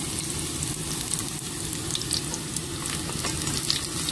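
Garlic fries in a hot pan for pansit with a dense, continuous crackling sizzle, steady and close, with no voices.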